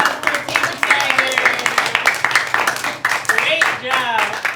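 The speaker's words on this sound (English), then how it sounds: "Round of applause for Team Tiger." A group gives a round of applause for Team Tiger during an arts and STEAM class activity: several seconds of brisk, close clapping mixed with cheerful voices calling out over it.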